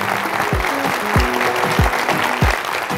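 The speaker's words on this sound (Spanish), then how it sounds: "un fuerte aplauso para ustedes" Audience applause fills a university welcome event at the Universidad de Cundinamarca, a steady crowd of clapping with deep, regular booming thumps beneath it.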